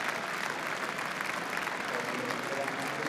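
A football crowd at an FA Cup third-round match between Wrexham and Nottingham Forest applauds a player being substituted, a broad, steady wash of clapping and crowd noise that holds loud throughout.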